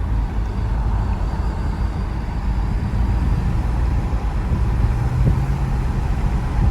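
Steady low rumble of a 2012 Chevrolet Camaro convertible V8 engine and exhaust from inside the car while driving, a continuous moderate drone with road noise and no speech.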